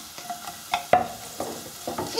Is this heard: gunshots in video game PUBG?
no